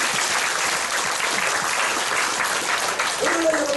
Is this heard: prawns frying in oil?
no